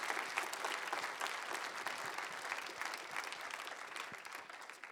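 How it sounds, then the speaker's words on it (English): Continuous audience applause fills the room at the SensUs 2019 award ceremony, a dense, even wash of many hands clapping at moderate loudness, sustained throughout with little talk. "Big applause for yourselves and for the team."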